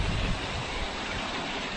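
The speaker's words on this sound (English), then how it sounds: "I'm sorry if there's wind noise." Wind buffets a camera microphone outdoors on a very windy day, a steady loud rumbling roar of noise with no other sounds coming through.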